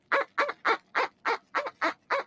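A quacking dog toy is squeezed eight times in a steady rhythm, each honking squawk loud, close and evenly spaced, with nothing else heard.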